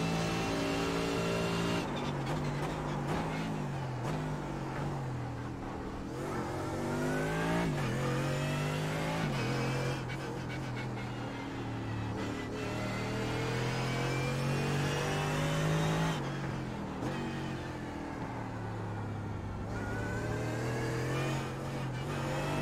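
A Mercedes GT3 race car engine in iRacing at the Nürburgring revs loud and continuous, climbing through the gears with sharp upshift breaks and sweeping pitch changes, no voices over it.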